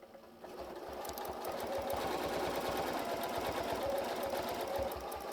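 A Janome M8 sewing machine stitches during free motion quilting, a steady close mechanical whirring hum that starts up and holds at an even fast pace.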